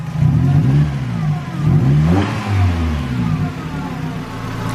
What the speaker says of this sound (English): That exhaust gotta go. Too loud.